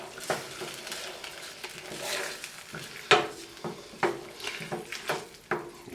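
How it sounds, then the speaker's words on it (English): Tomato sauce stirred in a pan for chicken parmesan, heard as soft scraping and clinking strokes with a faint sizzle underneath, close and fairly quiet, with no voices. "get all of our sauce in there, stir it in."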